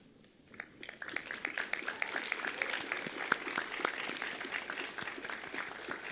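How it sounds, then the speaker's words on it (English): An audience at a medical school white coat ceremony breaks into applause after a brief quiet start, many hands clapping densely and steadily at moderate distance. "give them a big round of applause"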